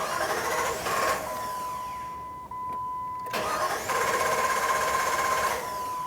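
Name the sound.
Jeep Grand Cherokee engine starting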